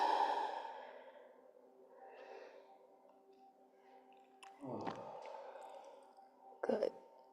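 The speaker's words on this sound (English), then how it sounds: "Breathe out." A person lets out a long, deep, breathy exhale during yoga breathing practice, starting loud and close and tapering off, followed by a couple of shorter breath sounds.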